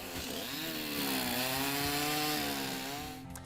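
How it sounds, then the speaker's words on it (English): A chainsaw carves a tree trunk into wildlife, its engine droning loud and steady with the pitch rising and falling as the blade bites the wood, heard alone. "a chainsaw artist from Chicago carves tree trunks into wildlife"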